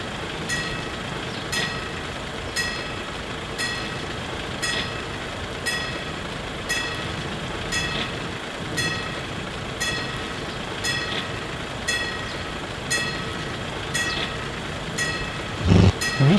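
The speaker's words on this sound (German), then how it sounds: "wo kommt der scheiß Zug da her?" A train rolls past, a continuous loud rumble marked by regular clacks of wheels over rail joints about every second, ending in a heavier thump near the end.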